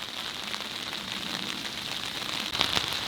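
Driving rain falls steadily across a hilltop cemetery at Chesterfield Spital, UK, a dense even hiss of drops with a few sharper spatters near the end, no voices.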